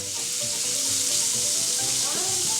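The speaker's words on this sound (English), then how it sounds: "just to swish it around for it to saute like a minute" Egg and onion sautéing for an omelette breakfast, a continuous loud sizzle in a pan with a soft scraping stir swishing the contents around, close up, no talk.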